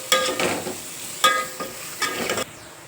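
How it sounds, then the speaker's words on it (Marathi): Ground coriander, turmeric, garam masala and kasuri methi stirred and sautéed in a pan for a potato-pea curry, with three bursts of spoon scraping and sizzling close by, separated by short pauses and ending abruptly. "हे पहा, आपले मसाले छान परतलेले आहेत"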